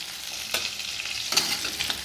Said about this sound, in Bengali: আলুগুলো বেশ ভাজা ভাজা সুন্দর গন্ধ বেরিয়েছে